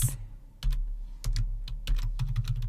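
Rapid keystrokes on a computer keyboard while typing text into a WordPress email notification setting, coming in quick bursts of close, crisp clicks separated by short pauses.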